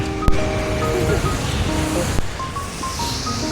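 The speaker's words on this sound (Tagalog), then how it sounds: "Humahangin na siya." Steady broadband rushing of wind at a Sapporo hotel fills the whole stretch, with a sharp click near the start and faint tonal beeps in the background.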